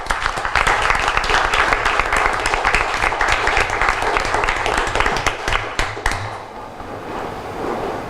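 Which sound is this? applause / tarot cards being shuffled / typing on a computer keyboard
applause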